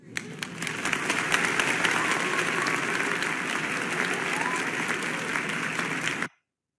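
A steady burst of applause, a library sound effect, with dense clapping holding at an even level for about six seconds before cutting off abruptly.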